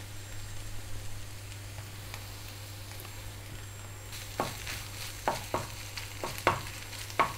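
A quiet low hum runs throughout, then a utensil stirs a sauce of a little tomato paste and hot sauce in a frying pan with several soft scraping, sizzling strokes in the second half.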